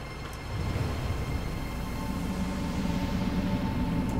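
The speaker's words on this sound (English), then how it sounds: "let's kill the engine just because it's really now loud and annoying" A car engine idles steadily in The Vanishing of Ethan Carter, a low continuous rumble that grows slightly louder after the first half second and then holds, with no other sound.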